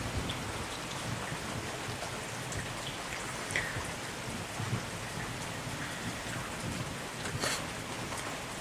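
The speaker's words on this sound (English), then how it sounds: "As you can hear, it's thundering." Steady rain falls during a light morning thunderstorm, with soft, distant rumbles of thunder rolling underneath the constant patter, fairly quiet and without any voices.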